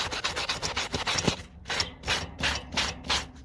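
A scrubby pad scrubs a rusty wiper linkage on an old shifter, fast back-and-forth rasping strokes up close, then slower, separate scrubbing passes.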